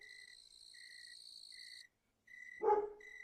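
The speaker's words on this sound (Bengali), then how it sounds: "চারিপাশ থেকে ঝিঝি পোকার ডাকে গা শিউরে উঠতেছে আমার।" Crickets chirp at night in a Bengali horror cartoon: a steady, high, trilling chorus that briefly cuts to silence, then returns with a short, louder thump-like noise in the middle.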